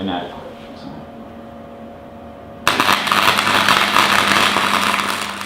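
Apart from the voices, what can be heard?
welding a steel rear bar in place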